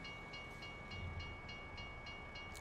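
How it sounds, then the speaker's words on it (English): A train passes faintly in the distance in the American Truck Simulator video game, with soft, regular clicks over a low, steady background drone and no talking. "Oh, train's coming."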